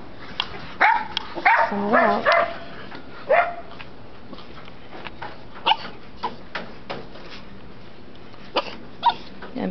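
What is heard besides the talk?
puppies barking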